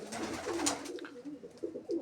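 Adult pigeons in a loft cooing, low soft repeated coos at close range with some faint background clatter, no talking.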